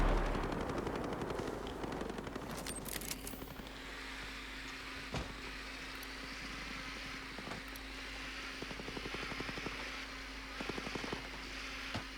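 Sharp gunshots crack out in Tom Clancy's Ghost Recon: Breakpoint, mostly single spaced shots with a few quick bursts, fairly faint over a steady low electronic hum.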